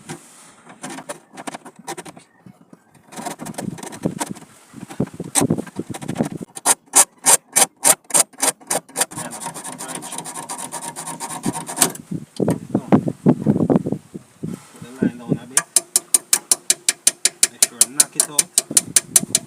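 A hacksaw cuts out a damaged piece in rapid back-and-forth strokes, close and crisp, with bursts of rhythmic rasping separated by short pauses and a fast even run of strokes near the end.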